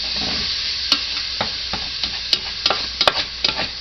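Spaghetti squash scrambled with eggs and vegetables cooks in a pan with a constant close sizzle, broken by a series of light scraping taps from stirring.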